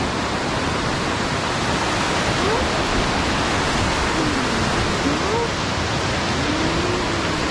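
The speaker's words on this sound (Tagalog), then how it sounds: "Dinig na yung tunog ng river." Steady broadband rush of a river flowing near rice terraces in Hungduan, Ifugao, heard close and constant with no pauses, a few faint bird-like chirps drifting over it.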